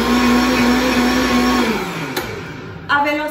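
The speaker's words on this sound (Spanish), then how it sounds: "Luego todo lo vamos a poner en la licuadora." A blender or NutriBullet runs at high speed mixing ingredients for a remedy, a loud steady motor whine that winds down and drops in pitch before a brief restart near the end.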